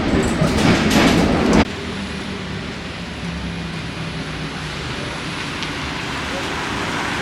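A loud rush of a London Underground train arriving at Aldgate station gives way to a steady low rumble and hum of the platform; no speech.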